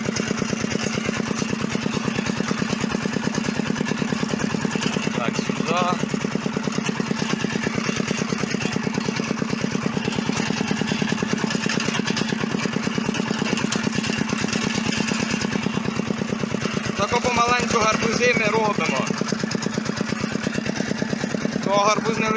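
A walk-behind tractor engine runs steadily at close range throughout while the machine drives loaded, with a continuous mid-pitched rumble. Pumpkins are on board.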